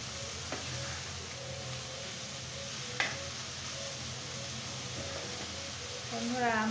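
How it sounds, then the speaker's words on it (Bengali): Leafy greens stirred and turned over in a hot pan: a steady soft sizzle with light scraping and a few clicks, quiet and close, under someone talking. "আমি এখন শাকগুলাকে খুব সুন্দর করে নেড়ে চেড়ে একটু ওলট পালট করে দেব"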